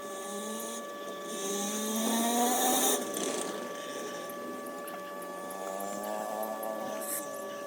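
A cow milking machine runs with a steady mechanical whine and hum, swelling slightly early on and then holding an even drone at moderate distance.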